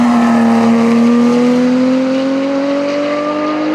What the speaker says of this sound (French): Le son de ce flat 6 est phénoménal